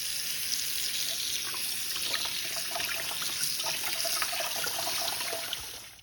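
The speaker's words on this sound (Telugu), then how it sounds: "కొంచెం నీళ్ళతో బాగా కడుక్కోవాలి." Moringa leaves being rinsed under running water in a kitchen sink, a steady close hiss of flowing water with faint splashes and drips throughout, no voices.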